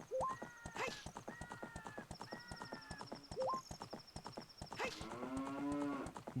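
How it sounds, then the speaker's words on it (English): Fast, rhythmic hoof clops under a horse in a Zelda: Ocarina of Time randomizer, broken by short rising calls and then a long, loud, lowing moo in place of a neigh near the end. "Did my horse just make a cow noise?"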